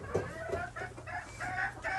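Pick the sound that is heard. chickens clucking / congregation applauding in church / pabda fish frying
chickens clucking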